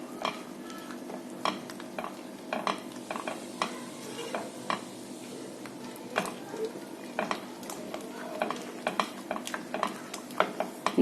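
Beetroot halwa being stirred in a pan with cornflour mixed in, the stove already switched off: a steady soft scraping and stirring with scattered spoon clinks against the pan, close and moderately quiet, with no talk.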